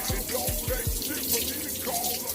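Running tap water splashes steadily while soap is rinsed out of thick freeform dreadlocks, a close, continuous wash with small splattering changes throughout.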